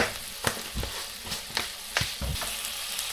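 Cumin seeds crackle and sizzle in hot oil, with sharp pops scattered irregularly over a soft steady fry, close and fairly quiet.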